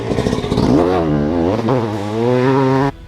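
A 2004 Honda 250 CR two-stroke motocross bike rides through a slippery corner, its engine buzzing loudly and close, revving up and dropping pitch as the throttle rolls on and off before cutting off abruptly.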